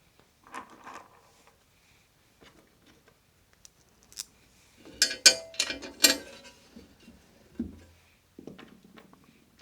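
Bolts are screwed in by hand to mount side cases on a QJ SRT 125 DX motorcycle: scattered close metallic clicks and scrapes, then a denser burst of ratcheting and tool clatter midway, trailing off into sporadic taps.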